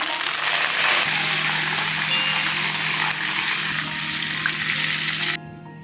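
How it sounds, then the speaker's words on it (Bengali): Curry leaves crackle and sizzle loudly in hot oil, a dense, constant hiss that cuts off abruptly near the end. "কারি পাতা ভাজা হয়ে গেছে তুলে নিলাম"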